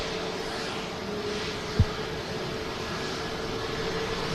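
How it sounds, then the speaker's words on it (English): A Jet2 Boeing 737-800 from Pisa on final approach at Manchester Airport, a steady distant engine drone with a brief thump partway through. "Jet2 737-800 from Pisa on final."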